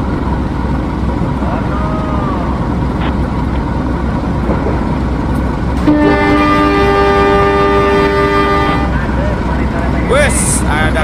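A locomotive hauling a rake of container wagons in Trainz Simulator rumbles loudly and steadily, with a long multi-tone horn blast sounding over the heavy rolling noise midway through.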